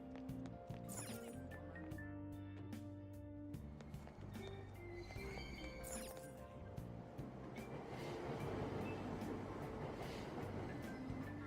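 A train at a station platform in the Persona 5 video game, a continuous mechanical rumble with electronic chime-like tones and hum, growing rougher and louder toward the end.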